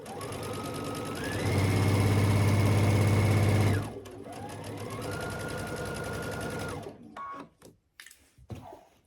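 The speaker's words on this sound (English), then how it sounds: "line it up at 1/4 inch and I'm going to sew this row down" A sewing machine runs steadily while stitching a row of a T-shirt quilt at a quarter-inch seam, with a loud continuous whirr that drops to a lighter hum partway through before stopping.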